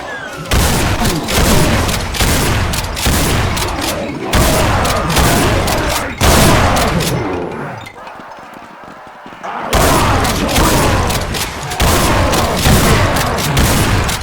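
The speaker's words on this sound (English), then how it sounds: "Compare this to the shotgun in Project Brutality." Shotgun fire from Project Brutality, a Brutal Doom mod for the Doom game, rapid loud punchy blasts in dense bursts with a brief quieter pause midway, close and aggressive.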